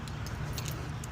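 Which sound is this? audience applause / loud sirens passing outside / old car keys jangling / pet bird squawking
old car keys jangling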